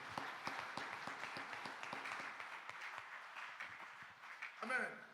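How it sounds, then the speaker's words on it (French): A church congregation claps together at a Sunday family service, a dense run of overlapping hand claps going on steadily under a speaking voice. "tobeta maboko mpo na nkolo"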